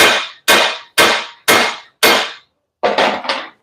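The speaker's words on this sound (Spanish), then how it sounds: "Martillo para eliminar un poco la tensión producida por el aporte de soldadura." A hammer strikes a welded steel leaf spring from an Isuzu FVR truck, landing five loud, evenly spaced close blows followed by three quicker hits in a row, each ringing off sharply, with no talk.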